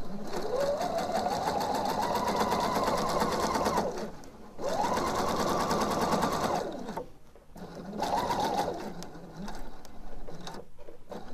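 A sewing machine runs in three bursts as it stitches a blouse seam toward a marked point, with a steady mechanical whir that stops and starts. It sounds close and clear, with no talking over it.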